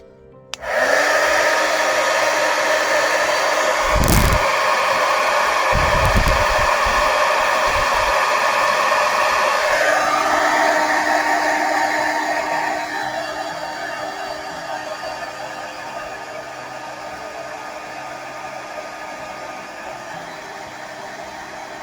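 A heat gun used for embossing blows as a loud, continuous rushing hiss for about twenty seconds. Its tone shifts and softens slightly partway through.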